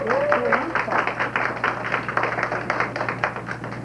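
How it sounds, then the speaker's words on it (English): A small school-recital audience claps enthusiastically, quick scattered hand claps close by, with a voice speaking briefly over the start. "You can clap for them, please."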